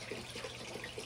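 Cups of water are poured into a fish tank while new rescued fish are acclimated, making a soft, continuous splashing trickle close by.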